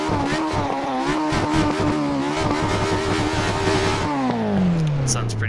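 An old car in the Assetto Corsa racing game on PS4 revs hard in rapid pulsing bursts, pitch climbing and falling, then settles into a long descending drone near the end, loud and close.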